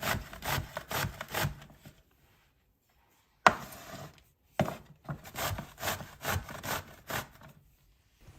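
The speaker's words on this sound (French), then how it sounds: "puis râper la courgette" A zucchini rubbed against a grater in rhythmic rasping strokes, two bursts of steady scraping separated by a pause with a couple of sharp knocks, close and clear with no talking.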